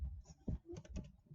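Computer keyboard keys struck in a short burst of faint, close clicks, a few quick taps with a firmer press in the middle.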